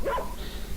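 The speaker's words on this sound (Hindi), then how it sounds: "कुत्ते की आवाज है" A single dog bark, sharp and fairly close, with a short yelping quality, heard alone in a brief moment with a faint background hiss after it.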